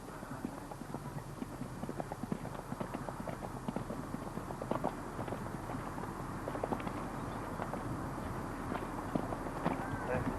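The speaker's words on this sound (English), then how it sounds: "riding this great horse, Canuck." Hooves of Canuck, a tough gelding under a rider, clip-clop in a steady walking rhythm, close and fairly loud, with faint background noise throughout.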